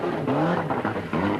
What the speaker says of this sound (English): Eventually, Francois gets the engine going